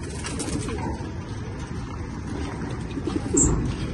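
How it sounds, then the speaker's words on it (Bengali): Pigeons coo softly in a coop built from scrap wood and tin, a low murmuring that carries on steadily, with one louder coo near the end and a faint chirp. "কবুতর গুলো সুন্দর, আড্ডায় বসে খুবই রিল্যাক্স মুডে আছে"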